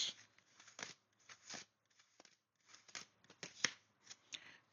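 A tarot deck is cut and shuffled up close, giving quiet irregular riffles and card slaps in short bursts with pauses between, and no voices.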